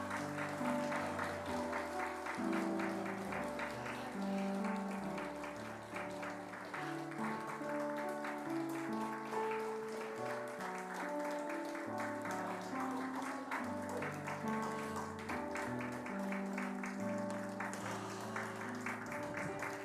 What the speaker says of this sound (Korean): 우리 박수로 우리 축하하도록 하겠습니다.